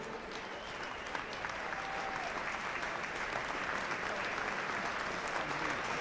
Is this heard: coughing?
no